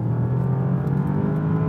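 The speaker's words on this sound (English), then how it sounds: "it does make a nice sort of really bellowy, bassy V8 noise" A Bentley Continental GT's twin-turbo V8 engine hums low and steady from inside the cabin, a smooth bassy drone at moderate level with no talk.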